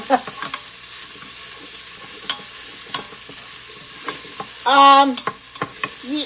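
Brown rice pilaf with onions is stirred in a quick cooker pot: scattered scraping and tapping of a spoon over a faint sizzle, with one short tonal hum partway through.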